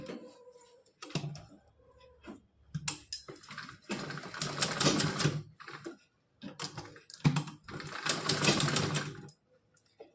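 A sewing machine stitching a drawstring casing on a small frock, running in short bursts of rapid mechanical whirring and clatter separated by pauses, close and alone.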